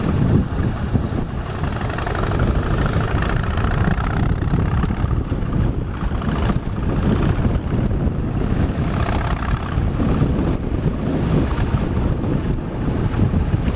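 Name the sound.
Harley-Davidson Street Bob motorcycle riding with wind noise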